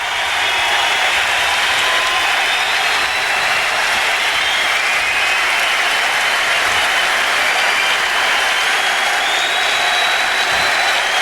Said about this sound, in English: The Sabres all staying on the ice to applaud the great Mark Messier.